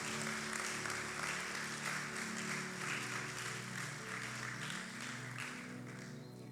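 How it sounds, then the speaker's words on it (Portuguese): Congregation applause at a church service, broad steady clapping with sustained musical tones underneath, slowly fading toward the end. "Vamos mais uma vez aplaudir ao Senhor Jesus"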